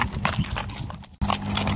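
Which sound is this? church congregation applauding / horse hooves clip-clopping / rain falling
horse hooves clip-clopping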